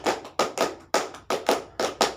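Hands clap sharply in a quick, uneven rhythmic pattern during a group clapping game, about ten claps in bursts, close and clear with no talking.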